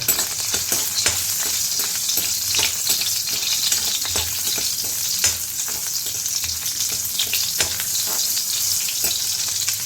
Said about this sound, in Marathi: सगळ्यांत पयलीं हांव घालता हितून लसूण